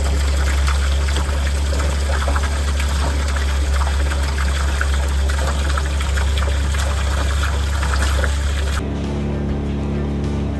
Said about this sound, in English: Alright, so we are pumping right now.